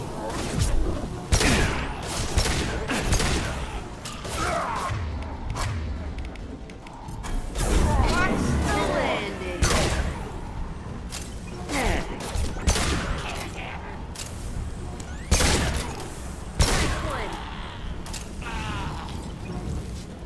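Gunfire in a Mass Effect 2 firefight, with repeated sharp shots and bursts scattered through a busy mix of mechanical clanks and thuds, all at fairly steady loudness.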